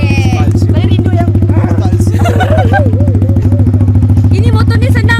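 A low, light motorcycle with push-button start runs at a steady, throbbing idle close by, continuing under people talking over it.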